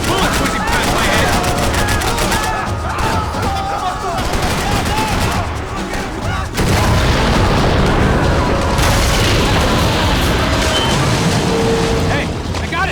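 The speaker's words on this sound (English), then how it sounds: "I can't concentrate with bullets whizzing past my head." Dense bursts of gunfire and booming blasts from the video game Max Payne 3 fire in rapid volleys through a swamp firefight and carry on for the whole stretch, with voices shouting over parts of it.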